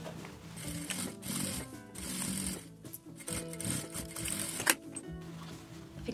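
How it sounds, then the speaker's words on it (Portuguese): Sewing machine stitching a straight seam on a pleated fabric bag with three pockets, quiet rapid mechanical whirring in short bursts with brief pauses and small clicks, close up. "Vou passar uma costura reta aqui."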